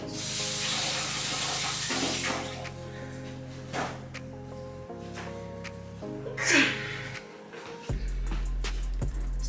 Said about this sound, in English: And then I'm gonna rinse out before I put it in there,